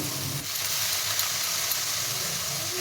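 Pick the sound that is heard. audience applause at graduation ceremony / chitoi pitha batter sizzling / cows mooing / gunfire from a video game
chitoi pitha batter sizzling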